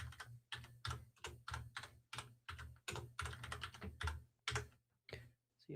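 Shell commands typed on a computer keyboard in a bash terminal, rapid close clicking keystrokes in quick bursts with short pauses over a low steady hum.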